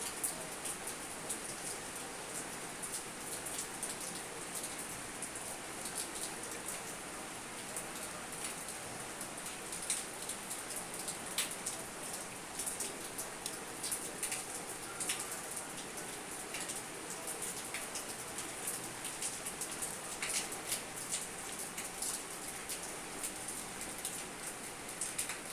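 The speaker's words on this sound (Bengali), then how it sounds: "গ্রিলের মধ্যে দিয়ে বৃষ্টি তুলছি" Steady rain falls for a long stretch, heard through a window grill as a dense, even patter of drops with scattered sharper taps. It is fairly faint throughout, with no voices.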